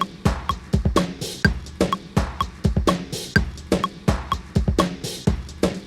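A drum groove processed by the BLEASS Slow Machine effect plays with a metronome click ticking steadily on top, loud choppy kicks and snares repeating in strict tempo, no talking.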